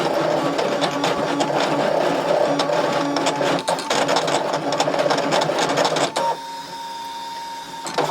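A Brother ScanNCut machine cuts out printable images with a steady, fast mechanical whir and rapid stuttering motor pulses that run continuously, close and loud, then drop to a quieter, smoother hum near the end.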